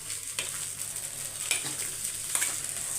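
Potatoes with chili powder fry steadily in a pan, a dense close sizzle broken by a few scraping stirs, with no talking.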